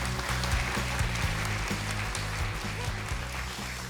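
Applause in a Daegu broadcast studio after a social-enterprise presenter finishes, a steady wash of clapping over a low musical hum throughout.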